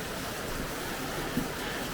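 Water pours steadily from a waterfall inside a cave in Sakarya, Turkey, a dense, even roar of rushing spray that fills the space without a break.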